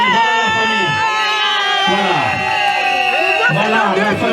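A crowd cheers and calls out at a customary wedding celebration. High, voiced shouts and whoops overlap continuously and loudly.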